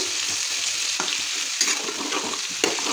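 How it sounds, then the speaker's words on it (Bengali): Boiled potatoes fry with dried red chillies in a wok, a loud close hiss of oil broken by scraping stirs and a few sharp pops. "একটু ভাজতে দিলাম লাল লাল করে"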